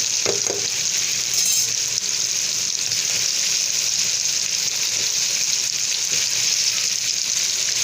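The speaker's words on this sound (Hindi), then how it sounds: "तो अब हम अपने आलू इसमें शामिल कर देते हैं।" Potatoes go into a hot pan with green beans for an Indian sem aloo sabji and fry with a loud, steady sizzle and crackle, with a brief clatter near the start and no talk.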